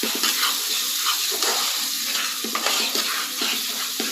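Tomatoes sauté in a pan on a gas stove, a constant close sizzle broken by repeated scraping and clinking from stirring, with no voices.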